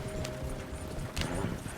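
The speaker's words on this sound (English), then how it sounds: "You're gonna lame these horses." Horses' hooves clip-clop steadily on rough ranch land in the video game Red Dead Redemption 2, close and busy, over a dense bed of outdoor noise.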